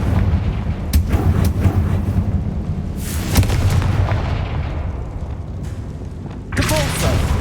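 The Confringo fire spell explodes in the video game Hogwarts Legacy, with loud, booming blasts and rumbling over a dense game soundscape, including a sharp burst early and another near the end.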